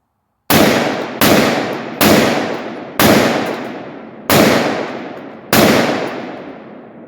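Six loud, sharp gunshots from a 7.5-inch-barrel AR-15 pistol firing .223 rounds at barrel targets, spaced roughly a second apart, each blast ringing out with a long decaying tail, no voices.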